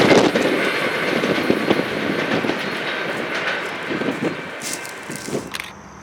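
Norfolk Southern freight train 11R, with an ex-QNSL EMD SD40-2 of the 3400 series trailing, rolls past heading south toward Binghamton, a loud continuous rumble with rhythmic wheel clatter and rattling cars.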